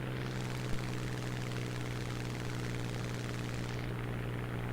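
A Spitfire XIV's propeller engine drones steadily and loudly in War Thunder during a tight turning dogfight against a Bearcat, holding a constant, continuous roar for the whole stretch.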